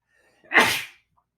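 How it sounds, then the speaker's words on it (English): A single sharp sneeze, close and loud, bursting out and fading within half a second. "Pardon my sneeze."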